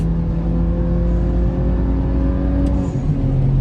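An old BMW engine tuned for a louder sound revs out slowly in Eco Pro mode, a steady close-up drone with its pitch easing upward, then dropping briefly near the end.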